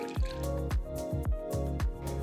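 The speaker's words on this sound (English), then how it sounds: "Strain all the water completely and keep them aside." Water drains off soaked dals being strained in a kitchen, falling in a quick, irregular series of close, plinking drips and small splashes with no talking.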